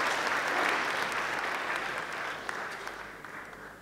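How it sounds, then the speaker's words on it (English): A large conference audience in Hyderabad claps steadily for the worship team, a dense, sustained round of applause that slowly fades a little over several seconds. "Shall we give a big round of applause to all the worshipers here?"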